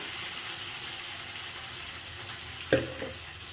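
Curry leaf paste frying in a pan, a quiet steady sizzle with a sharper splatter burst near the end as more hits the hot oil.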